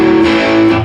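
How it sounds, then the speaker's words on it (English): A distorted electric guitar chord rings out loud and sustained, strummed open without palm muting, its full harmonic tone holding steady for under a second. "Because otherwise, if we didn't use the palm muting, it would sound like this."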